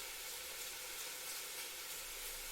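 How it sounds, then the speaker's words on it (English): Bacon frying in a pan at home, a steady close hiss and crackle of sizzling fat that holds constant, with no talking. "That ASMR bacon sizzle."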